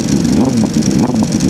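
A Ducati Panigale V4 SP2 motorcycle with the throttle opened, a loud, close, continuous engine roar accelerating under steady revs.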